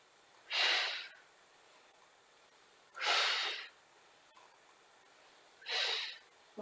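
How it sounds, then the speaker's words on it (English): Three slow, audible breaths during a Pilates session, each a breathy rush of air lasting about half a second, spaced evenly a couple of seconds apart in a quiet room. "Inhale. Exhale."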